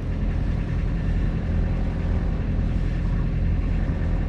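A Beta Marine 35 diesel engine runs steadily aboard a Valiant 40 sailboat after repowering, a close, loud, even mechanical drone that holds constant throughout with no talk over it.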